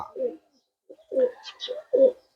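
A pigeon coos close by, a few soft throaty phrases with short pauses between them, alone without talk.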